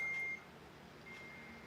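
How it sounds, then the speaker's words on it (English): A single steady electronic beep sounds at the start, lasting about a third of a second, followed by a low background hum. "I heard a big beep."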